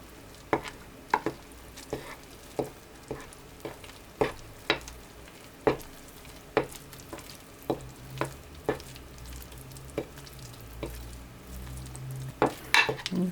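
A utensil scrapes and taps against a bowl as pizza dough starter of Caputo Nuvola flour is stirred slowly and gently, with soft rhythmic clicks and knocks repeating at irregular intervals.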